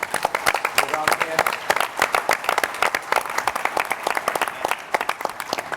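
An audience at a medical tourism conference panel in Cleveland bursts into sustained, dense applause that fills the room with rapid clapping throughout.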